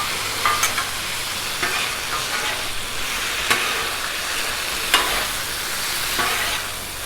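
Italian sausage and fire-roasted diced tomatoes sizzling on a Blackstone griddle while a spatula scrapes and tosses them, giving sharp periodic clicks over a steady hiss.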